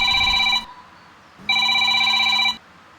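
A telephone rings with an incoming call: two loud electronic ring bursts separated by a short pause, close and clear with no voices.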